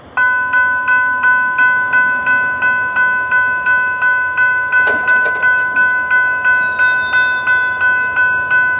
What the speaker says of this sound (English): Got a tanker train.